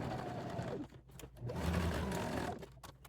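A sewing machine stitches in two fast bursts separated by a brief pause, a close, moderately loud mechanical whirring that stops as the bobbin runs out.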